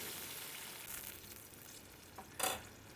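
Water poured into a hot pan of fried poppy seeds sets off a sudden loud sizzling hiss near the end, rising out of quieter, steady frying and stirring sounds.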